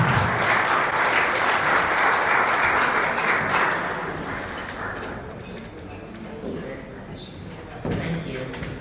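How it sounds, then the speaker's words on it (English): Applause from a luncheon audience at a council business event, loud and dense for about four seconds, then thinning and fading as a speaker begins talking. "please give her a round of applause"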